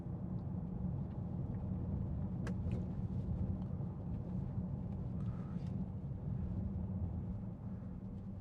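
Steady low engine hum from a 2014 Bentley Continental GT V8 S, a 4.0 litre V8 coupe idling or cruising smoothly, a continuous rumbling drone at moderate level with no talk.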